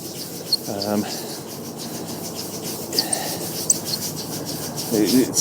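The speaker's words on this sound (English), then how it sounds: "I don't actually know how long I'm supposed to be kind of rubbing this for." A car headlight lens rubbed by hand with a cloth and non-abrasive restoration fluid, a continuous close, dry scrubbing rasp with brief squeaks as the strokes change direction.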